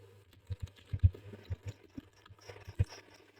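Keys clack on a computer keyboard while CSS code is entered, a soft, irregular run of close clicks in a quiet room.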